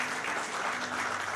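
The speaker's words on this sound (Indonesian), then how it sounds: "Amin, tepuk tangan buat Tuhan" Dense, loud applause from an Indonesian church congregation during a sermon, a continuous crowd clapping that fills the whole moment without speech.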